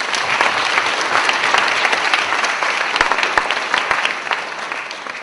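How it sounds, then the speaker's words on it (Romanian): Sustained audience applause in a hall at a school anniversary magazine launch, many hands clapping steadily and fairly close, fading slightly toward the end. "vă rog să-l aplaudați."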